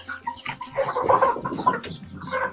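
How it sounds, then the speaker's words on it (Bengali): Chickens cluck and chatter in a lively cluster, several birds overlapping at close range with short clipped calls and no voices. "এই সাইডে বড় মুরগি রয়েছে"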